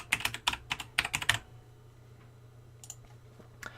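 Quick burst of computer keyboard typing, about a dozen crisp close clicks in a rapid run, then quiet with a couple of faint isolated taps later, no talk.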